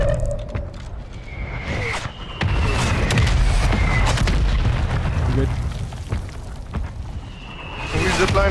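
Explosions from a precision or mortar strike in Call of Duty Warzone land as a series of heavy booms and bursts, with loud rumbling impacts and scattered pops under a steady background of game noise and people talking.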